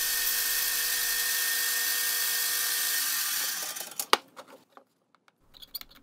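A bandsaw cuts wooden chess piece blanks in a woodturning shop, a steady high whine that winds down after a few seconds and leaves a scatter of faint clicks and knocks.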